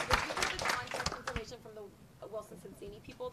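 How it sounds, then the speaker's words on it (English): A room at a startup event in the Wilson Sonsini law offices gives a short round of applause, a scattered flurry of claps that fades after about a second and a half as people resume talking. "But we'll give them a round of applause anyway."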